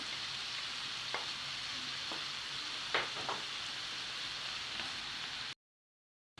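Onions fry in a pan with a steady, even sizzle, broken by a few soft scrapes of stirring, heard alone and fairly quiet before cutting to silence.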